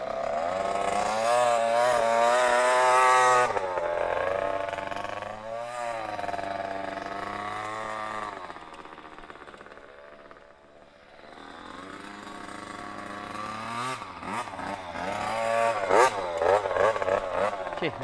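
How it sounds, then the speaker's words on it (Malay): A motocross bike engine revs loudly and repeatedly, pitch rising and falling in bursts, close by with no clear speech over it. "Dah lama gila eh, dia tak bawa motor cross ni."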